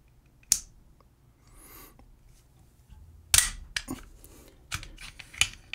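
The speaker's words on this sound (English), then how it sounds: "first thing we're gonna do is take the slide off here, just disassemble the gun." A pistol being field-stripped, its slide pulled off the frame: a few sharp, close metallic clicks and snaps with quiet shuffling handling noise between them, and no talking.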